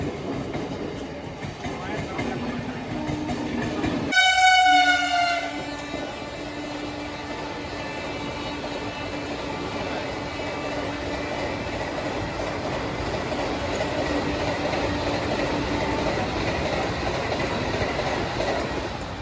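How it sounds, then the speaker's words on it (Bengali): A train rumbles past close by at a railway crossing, with a loud horn blast near the start, followed by steady rolling clatter of wagons that continues throughout. "আর ট্রেনই যাবে দেখ না, ঘন ঘন খালি।"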